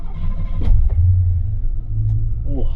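An automatic Ford Fox body LX hatchback drives along with a loud, steady low engine rumble. A few brief clicks and knocks sound from inside the cabin.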